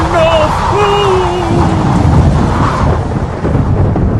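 Loud stage storm effect in a theatre performance of a Shakespeare tragedy: heavy rain roaring continuously with deep, rolling thunder, a faint tonal voice-like line briefly audible early on.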